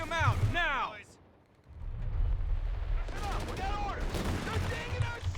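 MG-42 machine gun fire in a Company of Heroes 3 battle, with dense bursts of gunfire and explosions under the game's background din. Voices shout at the start and again later.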